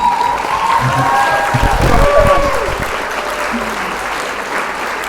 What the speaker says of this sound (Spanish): Un aplauso para Manuel Santander.